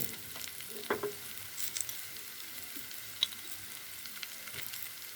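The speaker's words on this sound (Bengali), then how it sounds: "উস্তো দিয়ে সামুদ্রিক মাছ রান্না হচ্ছে। হলুদ দিয়ে দিলাম" Sea fish with turmeric frying in a pan, a soft, steady sizzle with a few faint clinks and stirring sounds.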